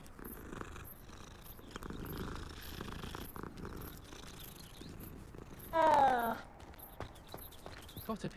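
A cat purrs in Hogwarts Legacy, a steady low rumbling that carries under the game's ambient music and footsteps, with a brief louder mew-like call midway.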